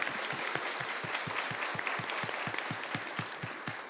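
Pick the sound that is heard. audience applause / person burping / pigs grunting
audience applause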